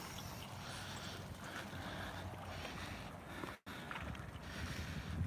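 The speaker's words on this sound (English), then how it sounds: "It's a little windy, but beautiful out here." Steady wind buffets the microphone beside a lake in Cornerstone Park, Henderson, Nevada, on an evening walk, a continuous rough rumble with one brief dropout near the end.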